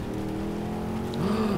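A car engine hums steadily and then revs upward in the video game Saints Row: The Third, a continuous mid-level drone that rises in pitch near the end, with no talk over it.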